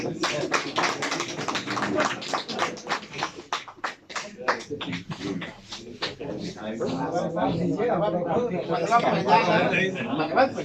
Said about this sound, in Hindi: बाकी लोग ताली बजाएं